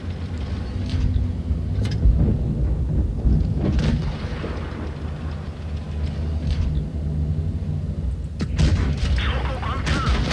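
A Chi-To SPG firing in World of Tanks Blitz, several booming shots and impacts over a steady engine rumble, with someone talking over the battle.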